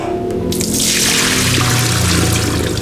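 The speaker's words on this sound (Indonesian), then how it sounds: "Lalu cukup dicuci bagian ininya saja." Tap water runs steadily into a sink while a hand blender attachment is rinsed under it, a loud, close, continuous splashing rush with no talking.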